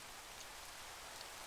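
Steady rain in the Craftoria Minecraft modpack video game, a faint, even hiss of falling drops that continues without a break.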